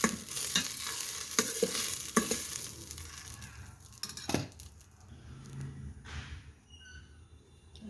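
Dal sizzles and fries in a Geek Robo electric cooker while a utensil stirs and clinks against the pot in several quick scrapes, the sizzle settling to a quieter hiss.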